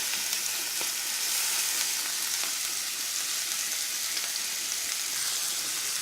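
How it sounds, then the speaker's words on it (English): Shrimp sear in a hot pan with blackening seasoning, giving a steady, dense sizzle that stays even and close throughout with no talking. "we'll just sear these off a minute or so each side until perfectly done"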